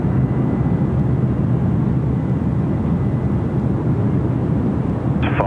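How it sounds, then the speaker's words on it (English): A Dash 8 turboprop passes directly overhead at Sydney Airport at night, a loud, steady broadband engine roar that stays heavy and unbroken for the whole stretch, with a faint brief tonal whine near the end. "Oh, dash 8 going straight over the top."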